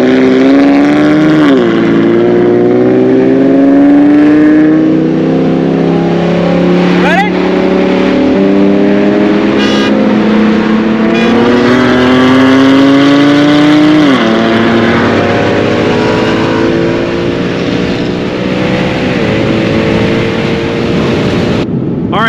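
Car launching hard in drag mode during a race, engine and drivetrain pitch climbing steadily through repeated upshifts, loud and close inside the cabin, with a person talking over it.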